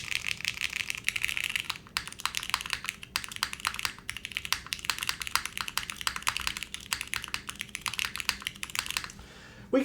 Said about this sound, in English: Do you guys want to see what an HMX switch sounds like?